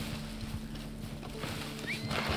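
A horse in the video game Red Dead Online clip-clops in a quick rhythmic gait and gives a short whinny, set against a steady in-game hum.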